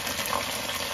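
Hot water pours steadily into a pot of stir-fried soybean and chili bean paste, a brief continuous gushing splash.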